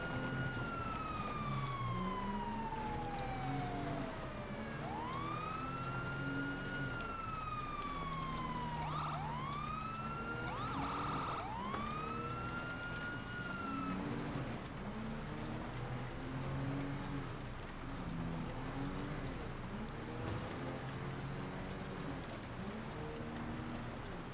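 Police sirens in the video game GTA 5 on an NYPD roleplay server, wailing up and down continuously for much of the clip, fairly prominent over a rumbling in-game background.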